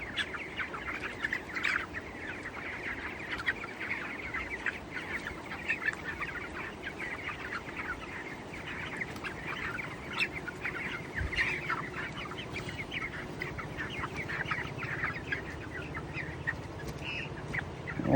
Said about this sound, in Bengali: 20 দিনের চিক্স মুরগি তোমরা দেখছো